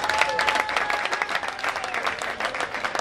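A crowd at a public political gathering applauds an honourable guest, dense, steady clapping close and loud, with faint voices mixed in throughout.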